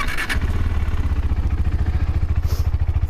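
KTM 390 Adventure motorcycle engine cranking and catching, then settling into a steady, close, pulsing idle with an even low thump throughout.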